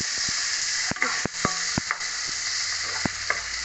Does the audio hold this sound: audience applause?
no